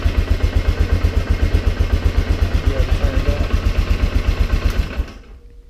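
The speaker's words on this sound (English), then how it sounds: "Had that kind of rattle noise with the last engine as well." Polaris Sportsman 400 ATV engine with a big bore kit idling roughly, a loud, fast, even thumping pulse with a clattering rattle that cuts off near the end.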